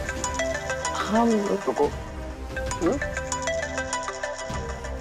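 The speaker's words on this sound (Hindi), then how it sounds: "यार ना हमें वीडियो कॉल काहे कर रहा है?" A phone ringtone sounds for an incoming video call in a home, a repeating melodic tone running steadily under people talking nearby.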